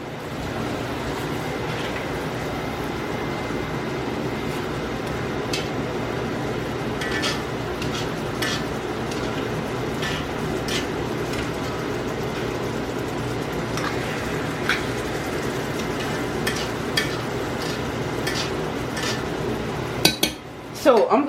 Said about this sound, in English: So I'm gonna get my baking pan